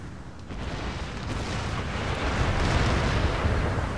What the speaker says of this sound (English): So, the mortar. Oh, there it is.